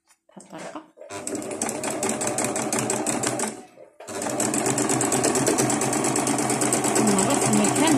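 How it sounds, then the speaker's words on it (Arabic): Sewing machine stitching lace trim, a loud rapid mechanical whir that runs for about three seconds, stops briefly, then resumes steadily to the end. "ونمرر ماكينة الخياطة"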